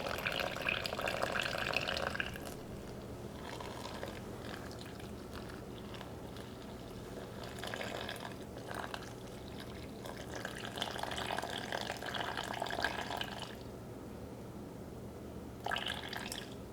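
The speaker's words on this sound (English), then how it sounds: "simply pour in the 395 grams of water that I need, keeping an eye on the scale" Water poured into a bowl set on a kitchen scale while mixing no-knead bread dough, heard as soft intermittent splashing and trickling in bursts, fairly faint against a quiet room.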